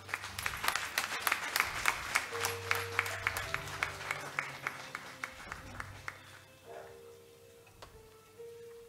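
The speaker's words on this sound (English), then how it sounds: "That clap offering, I believe, was for ourselves" Rhythmic congregational clapping during a church memorial service, a clap offering of steady beats that thins out and fades after several seconds, quiet and somewhat distant with faint tones and background sound.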